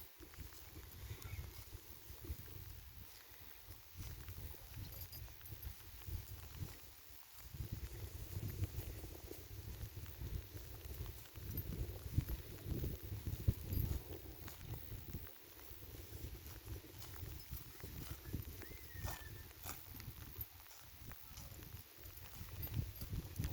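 A mare walks nearby with steady, soft hoof clops over a low rumbling background, continuing throughout.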